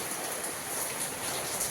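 Rain falls in a steady broadband hiss and patter, fairly close and even throughout, with no talking.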